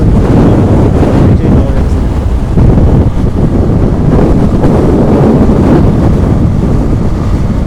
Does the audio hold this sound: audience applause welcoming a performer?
no